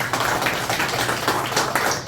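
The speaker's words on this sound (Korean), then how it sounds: "원안에 대하여 박수로 찬성을 표해주시기 바랍니다" Attendees at a founding general assembly meeting in Daegu applaud together to approve a motion, a steady, dense patter of many hands clapping in a hall, moderately loud and sustained without talk.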